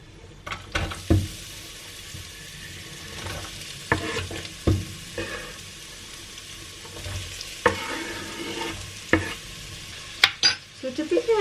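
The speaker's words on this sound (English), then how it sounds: "Okay, so my oil is hot. I'm gonna put my onions in here." Onions frying in hot oil give a constant sizzle, punctuated by repeated knocks and scrapes of a utensil stirring the pan at close range.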